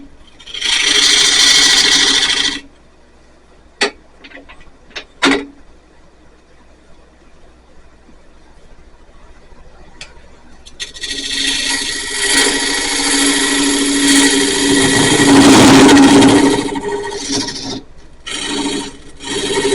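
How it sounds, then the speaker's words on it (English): A hand tool rasps and scrapes out a mortise in a piece of firewood, bursts of loud, close, coarse grinding separated by a quiet pause with a few sharp knocks, then a longer sustained stretch of abrasive cutting. "I'm going to cut the mortise out."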